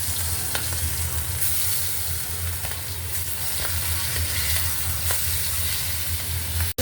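Chicken feet and gizzard stirred with spices in hot cooking oil: a loud, steady sizzle with soft, regular scraping taps of the stirring spoon, no voices.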